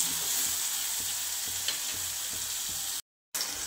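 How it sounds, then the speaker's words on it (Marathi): Tomatoes and onion sauté with salt in a pan, giving a steady, close sizzle with soft stirring scrapes throughout, broken by a brief silent gap near the end. "टोमॅटो छान शिजलं पाहिजे असं परतून घ्यायचं"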